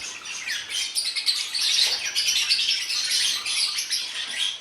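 Pet aviary birds chirp and tweet in a busy overlapping chorus, bright and fairly close, continuous throughout with occasional sharper squawks.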